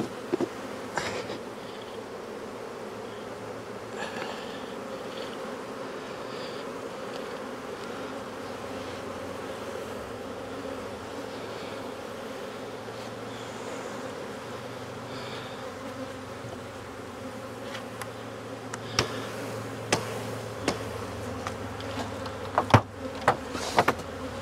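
Honey bees buzzing around an open hive as the honey super is set back on, a steady droning hum throughout with a few soft knocks and clicks of woodenware near the end.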